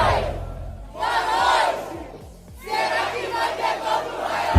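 Football fans in a stadium crowd chanting for the player Rayan, a loud massed roar of voices swelling in waves, with a brief dip before the singing surges again.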